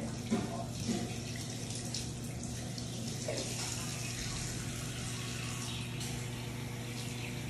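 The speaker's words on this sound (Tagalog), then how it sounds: "Wash mo sa water." Tap water runs steadily into a sink as a child washes hands, a soft continuous splashing hiss with a low pump-like hum underneath, faint and close.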